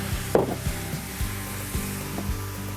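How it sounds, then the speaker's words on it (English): Steady sizzling and crackling of parsley frying in a pan, with soft repeated knocks underneath at a slow, even pace. "we want to hear that snap, crackle, pop, that frying of the parsley"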